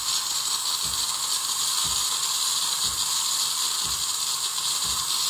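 A coffee machine's steam wand hisses loudly and steadily during cleaning, a continuous bright rush of steam with soft low thumps recurring about once a second and no talking.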